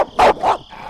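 Two sharp, piercing dog barks ring out close by in quick succession, a short pause between them, with a quiet backdrop afterward.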